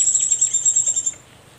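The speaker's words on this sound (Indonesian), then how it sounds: "burung cak kombo atau kuak madu ya, atau kecal kombo" A sunbird (cak kombo or kuak madu) giving rapid, thin high-pitched chirping calls in a quick run of about a second before falling silent, close and fairly loud.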